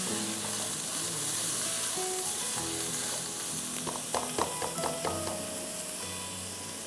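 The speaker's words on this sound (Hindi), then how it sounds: "इसको हम अच्छी तरह से" Blanched fresh peas fry in a pan, a loud, bright, continuous sizzle with a few sharp stirring clatters near the end, close up and with no talking.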